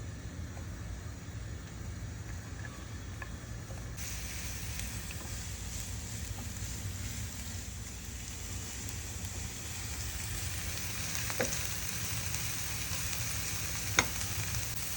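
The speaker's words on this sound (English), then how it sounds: "You don't need to wait for the ghee to get hot. Just add your onion." Onion and a green chili frying in ghee that was not yet hot, a steady, moderate sizzle lasting throughout, with a couple of sharp pops near the end and no voices.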